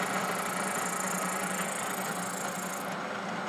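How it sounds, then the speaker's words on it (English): Milling machine cutter spinning at the start of a cut on stainless steel flange bolts, a steady close whirring hum that runs evenly and then cuts off abruptly at the end. "And the cutter is spinning in this direction."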